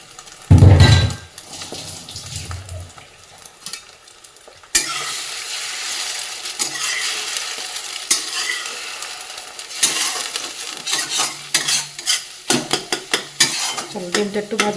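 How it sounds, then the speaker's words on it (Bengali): Egg seasoned with salt and chili powder frying in a wok, a close hiss of sizzling oil broken by loud metal spatula scrapes and clanks against the pan, with sharp repeated knocks near the end. "ডিম, নুন আর একটু লঙ্কার গুঁড়ো দিয়ে ডিমটাকে ভেজে নেবো ভালো করে"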